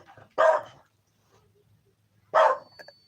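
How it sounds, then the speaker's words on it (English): Dogs barking in two loud, separate bursts about two seconds apart, nearby, with quiet between them and no talk. "Sorry about the dogs"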